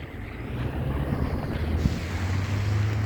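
Strong wind blusters outdoors during a walk in cold, heavy rain, a continuous rumbling wind noise buffeting the microphone with low gusts and no talking.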